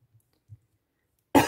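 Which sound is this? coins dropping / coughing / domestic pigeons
coughing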